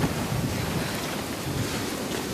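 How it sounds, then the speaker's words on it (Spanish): Sea waves wash against the shore in a continuous low roar, with wind buffeting the microphone throughout and no distinct individual breakers standing out. "El mar, Natalia, es excitante, es imponente, apasionante."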